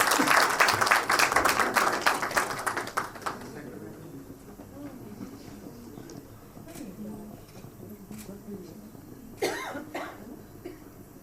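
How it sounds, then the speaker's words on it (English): Audience applause at a TiE Chandigarh business event, dense clapping for about three seconds that fades into scattered claps, coughs and room murmur, with a short burst of clapping near the end. "Let's have a huge round of applause for Vishal."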